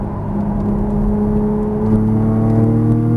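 Porsche Cayman GTS engine held at a steady, lightly feathered throttle through a turn on a racetrack, a loud, close, humming drone with clear harmonic tones that rise slightly in pitch partway through.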